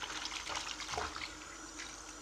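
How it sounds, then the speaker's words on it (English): Water runs steadily from a household tap into a sink or bath, a continuous close splashing flow with no talking over it. "Now turn the water on."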